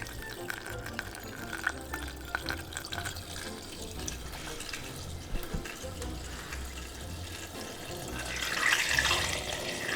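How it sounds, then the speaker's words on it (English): Aguardente poured over cherries and sugar in a jar, a continuous soft liquid trickle and splash that swells louder toward the end, heard alone. "I'm just now going to pour in the aguardente."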